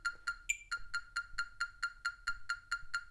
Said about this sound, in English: I have a metronome app that's called Tempo